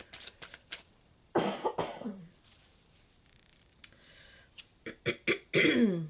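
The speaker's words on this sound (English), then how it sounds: "I apologize for all the coughing." Several sharp coughs come in short bursts, with quiet pauses between them.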